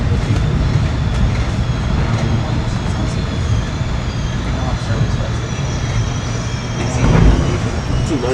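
Inside a Caltrain diesel commuter train riding near Belmont before electrification, a steady low rumble and broadband rolling noise continue throughout, with a brief swell near the end and voices talking in the carriage.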